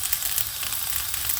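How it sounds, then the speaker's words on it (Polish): Plums sizzling in a hot frying pan, a dense steady crackling hiss heard up close with no voices. "Na rozgrzaną patelnię wykładam śliwki."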